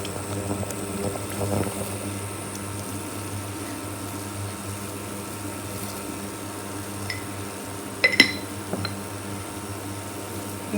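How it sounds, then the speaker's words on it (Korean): Water boils in a pot on a kitchen stove, a steady low bubbling hiss running throughout with a few faint clinks near the end. "이렇게 물이 끓을 때 소금을 꼭 넣어주세요."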